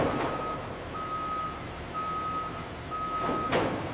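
A forklift carrying crates on a chicken farm sounds a steady series of reversing beeps, about one per second, over a constant engine and machinery hum, with a couple of clattering bursts.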